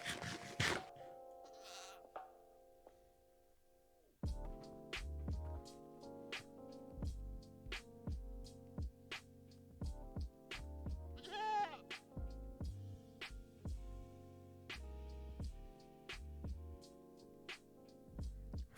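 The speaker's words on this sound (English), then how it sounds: "Found the world's friendliest goat." A goat in the video game Minecraft bleats several times, close and clear, over plucked in-game background music with a steady rhythmic beat.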